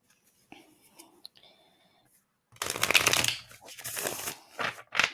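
A deck of tarot cards being shuffled, a quick burst of riffling flutter that rises loud after a quiet stretch of faint rustling, then fades and sputters.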